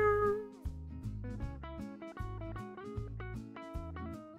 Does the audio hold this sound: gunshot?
no